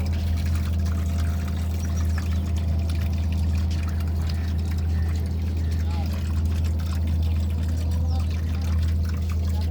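Water pours steadily out of an opened chamber beneath a car engine, a continuous trickling flow over a constant low mechanical hum, with no pauses throughout.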